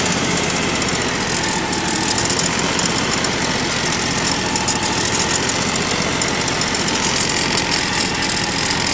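A 2004 John Deere X575 lawn tractor engine runs under light throttle with a loud, continuous, close-up buzzing chug that holds steady throughout.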